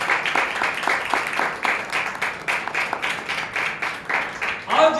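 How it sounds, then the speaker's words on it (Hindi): Rhythmic congregational clapping during a church worship service, steady beats repeating about twice a second, moderately loud, with voices faintly mixed in. "ताली बजा के हम प्रभु के नाम पुकारें।"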